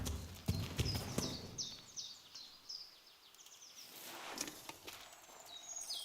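Steady clip-clop of horse hooves at a walking pace in Kingdom Come: Deliverance, with birds chirping in the background.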